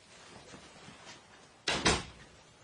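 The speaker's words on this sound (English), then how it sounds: "And you may close the door." A door being shut in a radio drama: faint room hush, then two quick, close wooden thuds in a row as it swings closed and latches.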